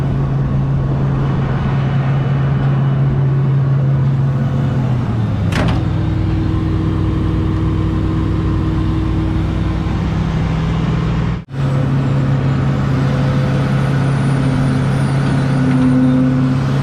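A heavy machine engine runs at an equipment auction, a loud steady diesel drone close by with a constant low hum, a brief sharp clank partway through and a sudden short cutout later.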